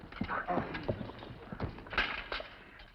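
Several horses clip-clop along a trail in a 1950s television western, a quick, uneven run of hoof strikes heard close and clear, with no talk over them.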